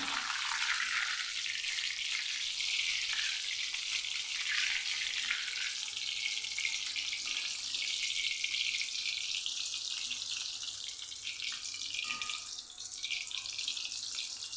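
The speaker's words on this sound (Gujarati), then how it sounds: "મીઠાવાળું પાણી ઉમેરીને તરત જ આપણે ગેસને ધીમો કરી નાખવાનો એટલે આપણે વેફર મસ્ત સફેદ થાય" Thin banana slices for wafers frying in a wok of oil on a low flame after salted water goes in, a loud, dense, continuous crackling sizzle held close throughout.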